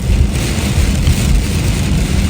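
Heavy rain pours down in Canada with flooding along the roadside, a loud, steady roar of dense rainfall that holds constant without a break, close and alone.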